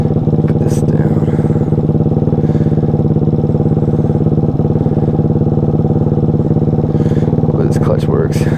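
A Grom-clone pit bike fitted with a Daytona Anima 190 four-valve engine idles and chugs steadily, loud and close, with a constant rhythmic thump throughout.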